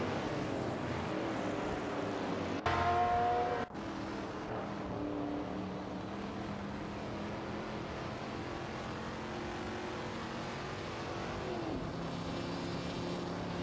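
Vintage supercars race around a track in a video game, engines droning steadily with shifting pitch and a brief louder burst early on, sustained without speech.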